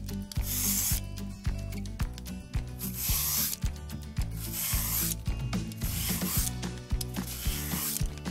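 A Magic Trio peeler slices a vegetable in quick repeated strokes, each a close rasping scrape with a faint clicking edge, in a steady back-and-forth rhythm.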